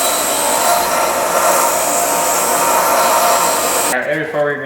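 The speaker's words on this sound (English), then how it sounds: "I'm gonna try to grind down these corners here" Power grinder wearing down the corners of a Mitsubishi Lancer Evo X engine part during a teardown, a loud continuous high-pitched whine lasting several seconds before it abruptly stops.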